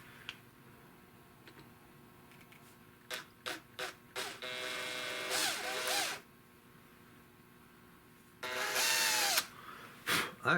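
A drill bores into a wooden gun stock on a 16-gauge European guild shotgun: a few short close bursts, then two longer whirring runs separated by quiet pauses.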